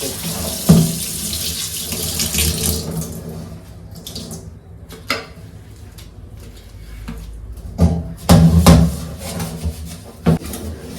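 A kitchen tap runs while a greasy chimney filter is scrubbed in the sink. Water splashes and patters unevenly and close by, with occasional knocks and clatters.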